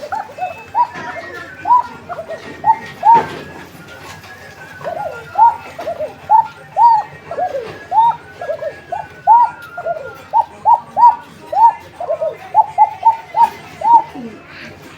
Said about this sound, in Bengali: একবারে চিকন গলা ভাই ঠিক আছে কোকা ডাক আপনারা আগে পরে শুনছেন